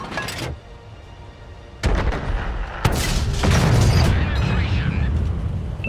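FV4202 tank in World of Tanks firing a HESH shell, a sudden loud booming blast followed by another heavy impact and rumbling battle noise continuing close by.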